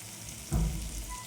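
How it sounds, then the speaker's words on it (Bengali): Tomato frying with salt, chilli powder, turmeric and curry spices in a pan gives a brief, soft sizzle with a short burst of stirring, faint and close. "নুন দিয়ে টমেটোটা একটু কষে নেব।"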